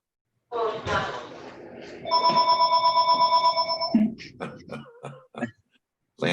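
A phone's warbling ring sounds for a couple of seconds during a Zoning Board of Appeals meeting, with a person talking just before and speaking again after it stops.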